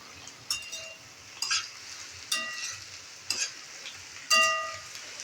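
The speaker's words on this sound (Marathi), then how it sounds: "आता ही भाजी आपली कच्चीच आहे त्याच्यामुळे ही आधी घालून फ्राय करून घ्यायचं आहे" Raw vegetables stir-fried in a pan over a high flame, with repeated bursts of sizzling and scraping as the spatula tosses them, five or so strokes at an irregular pace against a steady background hiss.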